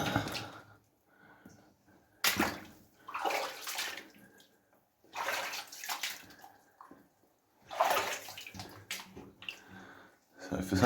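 Water in a flooded tunnel of the May Queen gold mine in New Zealand, heard as repeated bursts of splashing and sloshing, like wading steps, with quiet gaps between them and some talk.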